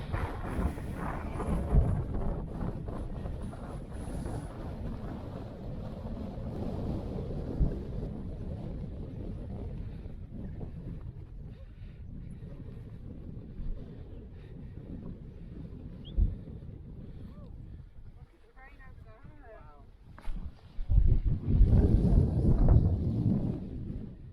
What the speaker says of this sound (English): You can probably hear how windy it is.